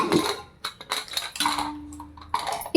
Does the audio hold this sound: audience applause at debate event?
no